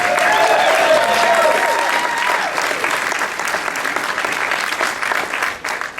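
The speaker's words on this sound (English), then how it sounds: "Put your hands together" Loud audience applause fills the room, a dense crowd clapping that gradually thins and fades toward the end.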